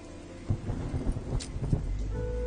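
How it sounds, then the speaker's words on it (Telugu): Heavy rain pours steadily with low rumbling thunder, and a few sharper cracks break through the downpour. "ఇంత వర్షంలో వెళ్ళడం అవసరమా?"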